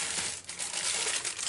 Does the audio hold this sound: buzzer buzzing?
no